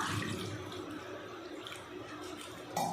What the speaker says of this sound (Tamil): ரசத்துக்கு தேவையான அளவுக்கு தண்ணி சேர்த்துக்கலாம்.